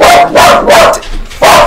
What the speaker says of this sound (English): that's my dog barking at my wife coming down the stairs